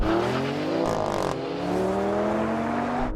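A Porsche and an Alfa Romeo Stelvio launch side by side in a drag race, their engines roaring loud and close with rising pitch through gear changes and a brief tyre squeal.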